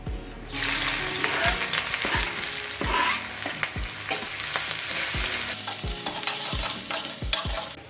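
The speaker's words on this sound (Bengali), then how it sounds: "এবার এতে দিয়ে দেব কেটে রাখা পেঁয়াজ, রসুন ও আদা কুচি।" Chopped onion, garlic and ginger frying in hot oil in a wok: a steady loud sizzle, with repeated scraping stirs and metallic knocks of the spatula against the pan throughout.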